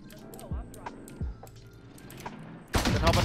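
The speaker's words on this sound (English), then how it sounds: "I'm getting sniped at, I saw a laser." Gunfire in the Warzone video game: a few sharp low-heavy shots spaced through the clip, then a loud dense burst of fire near the end, with game effects and background speech.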